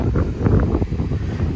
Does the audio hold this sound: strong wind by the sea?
yes